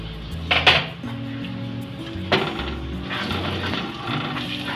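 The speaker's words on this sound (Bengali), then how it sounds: "ঘিটা গরম হয়ে গিয়েছে, ওর মধ্যে বেসনটা দিয়ে দিলাম।" A utensil clanks and scrapes against a pan as besan goes into hot ghee to roast, giving a few sharp knocks near the start and middle over a soft continuous scraping and faint sizzle.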